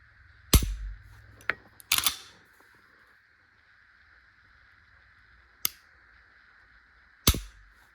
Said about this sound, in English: Johnny Glock trigger compared to a factory Glock trigger.